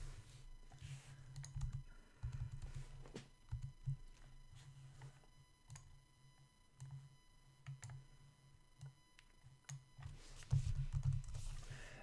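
Computer keyboard typing at a desk during a coding session, with soft close key clicks coming in short irregular bursts over a faint electrical hum and no talking.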